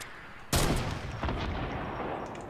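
Gunfire in Fortnite, with one sharp, loud shot, a second blast soon after, and a booming echo that decays slowly over the rest of the moment.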